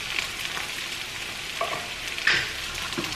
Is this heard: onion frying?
yes